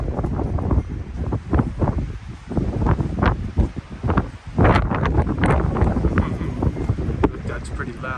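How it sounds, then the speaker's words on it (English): Strong gusts buffet a camera microphone during stormy weather, producing loud, surging rumbles and rustling bursts that rise and fall throughout while a person talks underneath. "That's pretty loud on the camera, all that wind noise."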